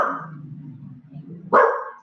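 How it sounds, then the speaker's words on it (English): A dog at home gives a short growling bark that trails into a low rumble, then a sharp, loud bark close to the microphone. "my dog is being very ferocious"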